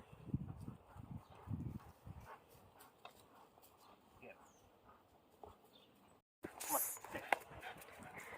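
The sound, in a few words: dogs panting in backyard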